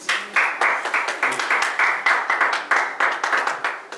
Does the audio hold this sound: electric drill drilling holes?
no